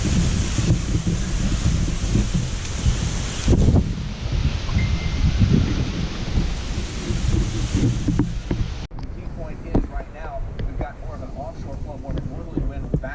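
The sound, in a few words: hurricane wind and rain at night, Hurricane Dorian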